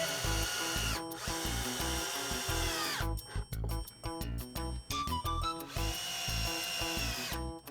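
Power drill driving screws to fasten under-cabinet light brackets to the underside of kitchen cabinets, with loud sustained whirring bursts broken by short pauses and clinks of the bit and screws.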